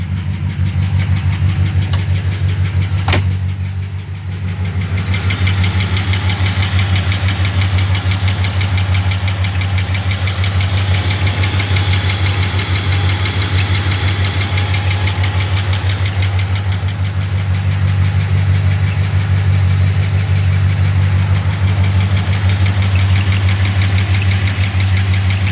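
A 1973 Rolls-Royce runs at a steady idle after a cold start, a loud, close engine hum with a slight knocking vibration. It holds for the whole stretch with a brief dip early on and no talk.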